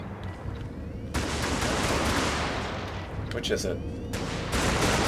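Video game gunfire bursts out in loud, close volleys, rapid shots running together in long stretches with a short lull in the middle, while a voice speaks briefly over the shooting.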